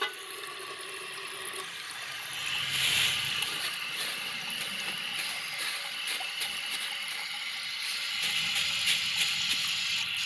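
American Standard Cadet toilet tank from 2001 refilling through its fill valve, a steady broadband hiss and rush of water running continuously and fairly close, with no talking.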